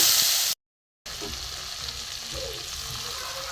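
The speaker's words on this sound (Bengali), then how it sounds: "এবার আমি কড়ার মধ্যে দিয়ে দেবো। ওর মশলাটা ভেজে নেব।" A spice paste of ground cashew, poppy seed, green chili and ginger fries in a wok with a steady hiss and crackle, which stops for a moment and then resumes at the same loud level.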